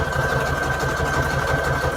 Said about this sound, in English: Okay, sewing machine, you're ruining my life.